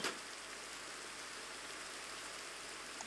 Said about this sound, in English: And it should stop raining now